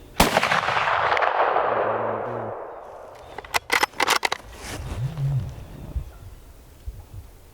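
A shotgun fired at a deer during Iowa shotgun season on public land: one loud close blast with a long rolling echo, then a quick cluster of sharp clicks and clatter as the gun is handled, and faint movement afterward.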